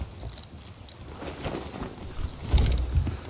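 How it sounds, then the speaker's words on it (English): Sails being dropped on a wooden ship in the video game Sea of Thieves: creaking rigging and rattling mechanisms come in bursts over a steady wind-and-water wash, swelling louder toward the end, with no one talking. "you're good to drop sails and get going"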